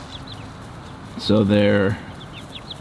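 Seventeen young chicks in an enclosed chicken tractor coop give faint, high cheeps scattered through the moment, while a nearby person briefly talks over them.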